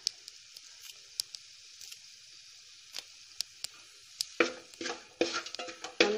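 Chopped tomatoes and coriander leaves stirred in a hot pan for kappa biryani, scattered sharp scrapes and clicks at first, then bursts of wet sizzling and squishing as the spoon turns the mixture.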